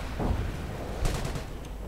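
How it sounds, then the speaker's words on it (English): Hummel self-propelled artillery fires in a World War II strategy game: two heavy booms, one early and one midway, over constant rumbling battlefield noise, with distant crackling impacts after the second shot. "Hummel keeps firing in the hopes of hitting something"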